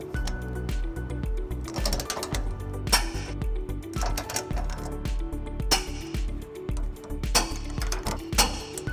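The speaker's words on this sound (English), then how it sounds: "we're gonna use a 21 millimeter socket to tighten those up." Rapid mechanical ratcheting and metallic clicking from a 21 mm socket tightening trailer hitch bolts on a 2015-2022 Chevy Colorado, a steady busy rattle with sharp clinks throughout, close and fairly loud.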